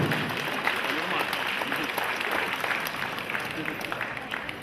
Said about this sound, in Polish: Gorące brawa, proszę Państwa.